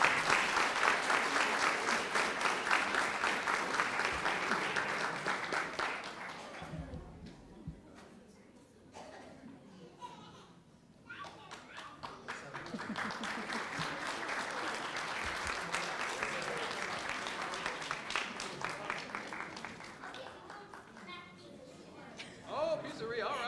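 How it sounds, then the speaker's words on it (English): Applause for students at a school board meeting rises in two waves of dense clapping, fading to a quieter gap with scattered claps in between and tapering near the end, with speech briefly heard in the lull. "Let's give these students a round of applause."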